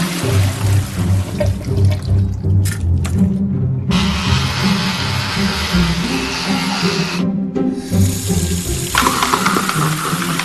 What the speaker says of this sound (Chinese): 数百万个马桶的冲水按钮被陆续按下。